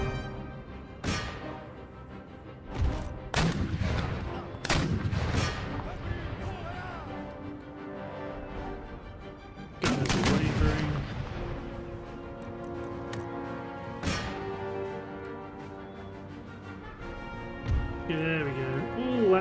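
Howitzer artillery fire in Empire Total War, with loud booming broadband blasts recurring irregularly over a background of game music and battle noise; a voice talks over parts of it.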